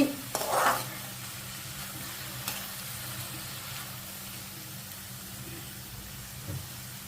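Chopped tomatoes hit a hot pan with a brief loud sizzle, then a soft, steady hiss of gentle sautéing continues quietly.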